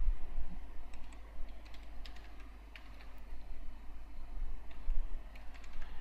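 Someone types a search on a computer keyboard, a near, steady stream of light key clicks in uneven bursts over a low constant hum, with no talking.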